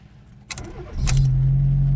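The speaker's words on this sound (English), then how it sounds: "literally that's the way a car should start" A Fiat car engine cranks briefly and starts, then settles into a steady, loud idle close by, with faint key jangling beforehand and no talking.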